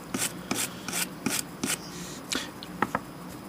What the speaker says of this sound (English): I'm using the brush for cleaning this up on both parts